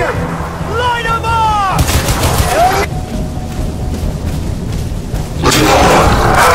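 Heavy gunfire and booming blasts in a Crysis 2 battle ring out loud and close, with bursts separated by gaps that carry whistling, warbling tones and a steady background rumble.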